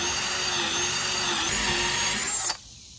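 A power drill whines steadily at high pitch as its bit bores into fence material during a privacy fence rebuild, then cuts off sharply.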